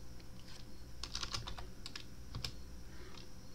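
Close keystrokes on a computer keyboard with the microphone right above it: a quick irregular run of clicks and taps, a few louder strikes standing out, and no talking.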